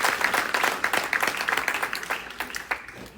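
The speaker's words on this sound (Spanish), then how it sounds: "¿Cuántos pueden darle un aplauso al Señor?" A church congregation breaks into applause, a dense patter of many hands clapping that swells and then thins into scattered claps, close and lively, with no talk over it.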